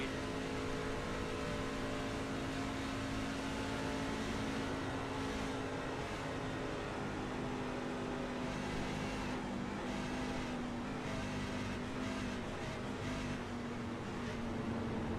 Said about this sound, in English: So you hear that truck stutter coming into turn number 4.